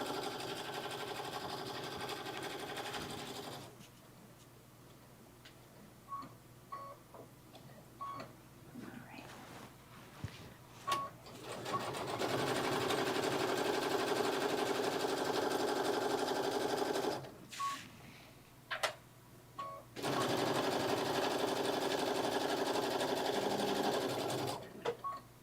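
Sewing machine running quick basting stitches on fur tote fabric, in two long steady bursts of stitching separated by a quieter pause with small clicks and handling noises, close and fairly loud.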